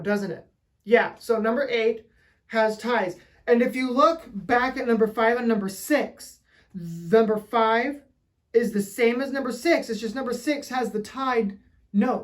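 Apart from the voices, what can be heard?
No everyday noises stand out.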